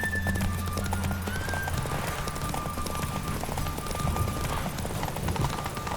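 Roach, Geralt's horse in The Witcher 3: Wild Hunt, gallops at full speed, a steady, continuous drum of hooves running the whole stretch with no voices over it.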